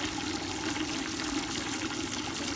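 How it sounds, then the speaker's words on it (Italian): Clean tap water running steadily into a home beer brewing system, a continuous close rushing pour with no break and no voices. "Vado ad aprire l'acqua per portare acqua pulita all'interno dell'impianto."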